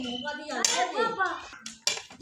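A spoon stirs fruit chaat in a bowl, giving a few light clinks and scrapes that sit under talking.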